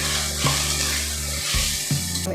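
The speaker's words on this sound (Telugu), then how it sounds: "ఇది పసుపొడి రవ్వంతా 1/4 స్పూను. అంతా ఫ్రై చేయండి" Turmeric powder frying with soya pulao ingredients in a pan, a loud steady sizzle close by, with a couple of brief stirring scrapes and shifts in the hiss.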